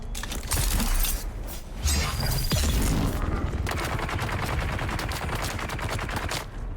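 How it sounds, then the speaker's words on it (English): Gunfire in Dune: Awakening, loud bursts of rapid shots and sharp cracks with a brief shattering clatter, followed by sustained rattling automatic fire that continues to the end. "The last thing I need is a guy shooting at me."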